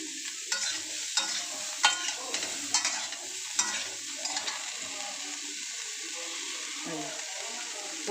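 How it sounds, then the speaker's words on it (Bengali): Cauliflower pieces frying and being stirred in a pan, with steady sizzling and repeated scraping stirs that stand out throughout; water runs faintly at times. "ফুলকপিটা ভেজে নেব।"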